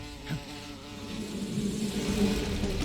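A droning swarm of bees from The Pain boss fight in the video game Metal Gear Solid 3 hums steadily throughout, swelling slightly louder toward the end with no voices.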